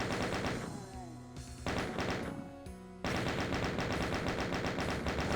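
Rapid gunfire aimed at a Revenant in Doom, Eviternity II map 21, with dense repeated shots that break off briefly twice before resuming loud and continuous.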